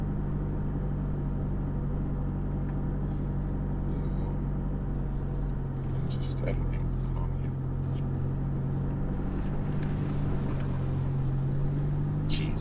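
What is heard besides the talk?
4WD car driving through a creek crossing on Fraser Island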